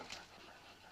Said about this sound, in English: Oh, it's a bulldog.